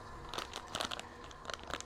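A package of pizza dough mix is torn open, giving soft crinkling and tearing bursts close by with no talking.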